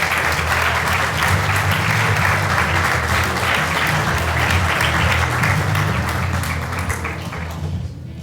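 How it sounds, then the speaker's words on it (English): An audience applauds at a science fair national final awards ceremony, loud sustained clapping from a large crowd that fills the hall and tapers slightly at the end. "Hey, turn into applause."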